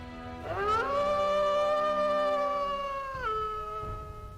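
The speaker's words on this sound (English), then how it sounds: "in the distance, all three of you hear the call of a wolf" A lone wolf howls in the distance, one long drawn-out call that rises sharply, holds steady, then drops. It is clear and alone with no talk over it.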